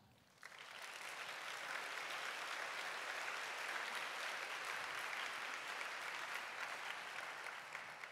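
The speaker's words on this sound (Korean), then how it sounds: "박수로 축복해 주시길 바랍니다" A church congregation at a Sunday young-adult worship service breaks into steady, sustained applause. It starts sharply after a brief quiet moment and holds at an even, full level with no talk over it.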